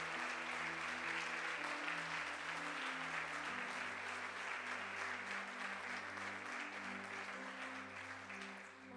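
A church congregation claps together during a service while sustained keyboard chords play underneath. The applause is thick and steady, then gradually thins toward the end.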